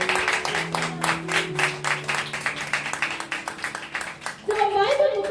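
Clapping from a congregation at a Pentecost church service: a steady run of claps under sustained organ-like tones and voices, ending with a brighter swell of music.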